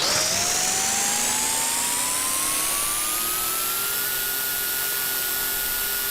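Steady whine of a model helicopter engine in the RealFlight 9.5S flight simulator, rising gradually in pitch as it revs, continuous and fairly loud with no talking.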